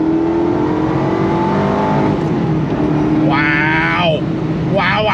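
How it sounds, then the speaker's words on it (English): A 2005 Ford GT supercar with a manual gearbox pulls hard in second gear on original tires, its engine a loud, steady droning note heard from inside the car, with a brief burst of higher rising whine near the end. "Let me shift into second gear"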